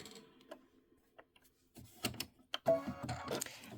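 A home embroidery machine stitches out a decorative hot pad, making faint, irregular mechanical ticks and clicks that build into a busier clatter of needle strokes toward the end.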